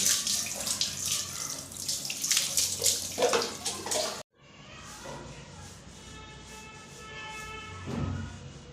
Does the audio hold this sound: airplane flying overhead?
no